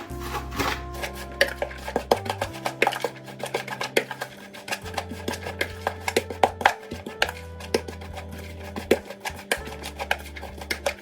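Grated ingredients for Ukrainian okroshka being mashed in a bowl, giving irregular scraping, pressing thuds and gritty rubs at close range over low, steady background music.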